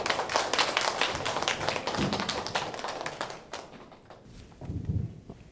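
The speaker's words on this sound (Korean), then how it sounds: "박수로 모셔보겠습니다" Audience applauding to welcome a speaker at a hospital dementia health lecture, a burst of fairly quiet clapping from a small crowd that thins out and fades toward the end.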